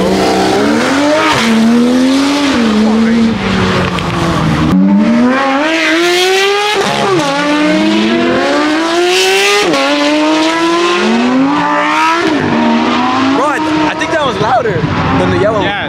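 A sports car engine screams as it launches hard at a car meet, revs climbing through repeated rising sweeps with quick gear changes, loud and close, with people talking over it.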